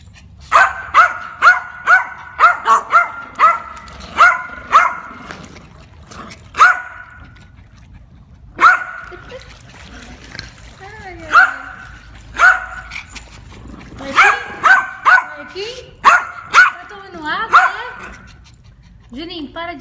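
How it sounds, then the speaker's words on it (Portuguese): A dog barks repeatedly in short bursts and clusters, close and loud, with a few whiny yips between barks and pauses of quiet. "para de latir"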